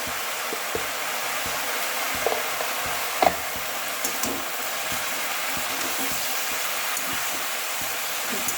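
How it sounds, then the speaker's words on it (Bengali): Spices, turmeric and cumin powder, stirred into Bengali matar shaak cooking in a pan: a steady low sizzle with soft scraping strokes of the spoon and one sharper knock near the middle, no voices. "ভালো করে মিশিয়ে দিলাম"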